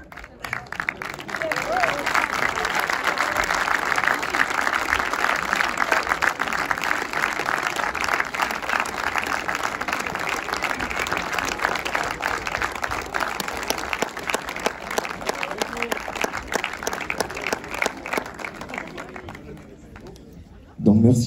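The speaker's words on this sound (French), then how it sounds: "Donc merci pour les applaudissements pour Hugo Mola" Sustained applause from a cinema audience fills the room, steady and loud for about twenty seconds with dense clapping and some crowd murmur, fading out at the end.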